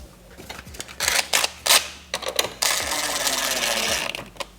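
Short metallic clicks and ratcheting bursts from an 8mm socket tightening a bolt on an oil catch can install on a BMW M340i with the B58 engine, coming in irregular close-up clusters with a steadier ratchet run near the end.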